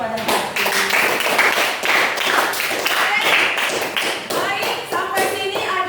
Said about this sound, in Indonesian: Beri aplaus kepada Hafiz.